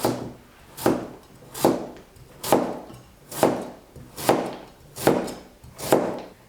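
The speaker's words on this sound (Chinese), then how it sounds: "首先，半个南瓜切片" A knife slices half a pumpkin into pieces on a cutting board, eight firm evenly spaced chopping thunks, close and clear, each strike followed by a short fading rasp, with no talk.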